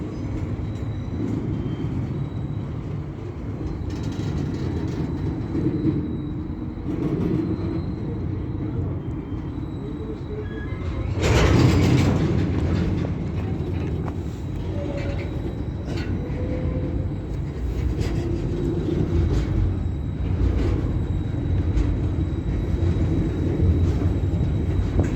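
Heavy freight train hauled by a Class 66 locomotive at Castleton, rumbling close by with a deep diesel drone, wagons rolling past and occasional high squeaks from the wheels.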